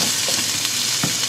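Carrots and other vegetables fry in a pan for carrot soup, giving a loud, steady sizzle broken by a few soft stirring clicks, with no talking.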